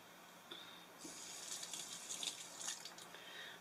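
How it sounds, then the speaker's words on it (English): A kitchen tap runs in an RV galley sink during handwashing between cooking steps, a steady close hiss of water lasting a few seconds with small splashing variations and no talk. "Wash my hand"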